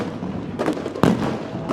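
Fireworks go off at a dirt track late model race in West Plains, Missouri: a couple of sharp bangs, one loud and close, over steady crowd and track noise.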